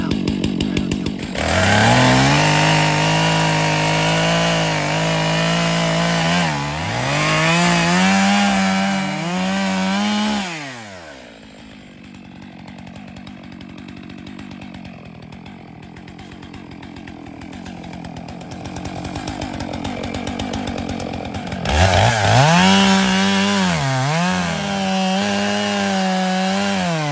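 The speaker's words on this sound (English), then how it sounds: "we're going to take down this oak tree to begin with, and we'll get started on that right now" A chainsaw cuts down an oak tree, its loud engine rising and falling in pitch through the cut, easing to a lower idle for several seconds midway, then roaring up again.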